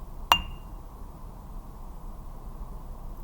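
A single sharp metallic strike of a mallet on a bell set rings out near the start, a bright bell tone that decays quickly, followed by quiet room hiss.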